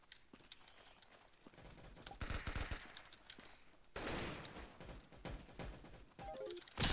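Bursts of rapid gunfire from a first-person shooter game, Arsenal, crackle in uneven volleys, loud and close, with sharp shots, short pauses and a quick rising electronic blip near the end.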